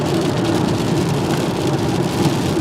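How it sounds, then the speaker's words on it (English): Steady, dense rain hisses continuously during a big storm beside a road, loud and close with no voices. "because it's raining"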